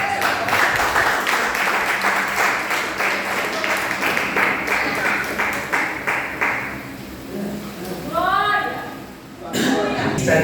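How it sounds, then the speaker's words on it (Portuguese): A church congregation at a worship service applauds the Lord with steady, rhythmic clapping that carries for several seconds, then fades as voices take over near the end. "Vamos aplaudir o Senhor."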